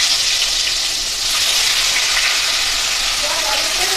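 Fish sizzling as they drop into hot oil in a wok, a steady bright crackling hiss that runs close and continuous throughout, with some faint spitting at the end.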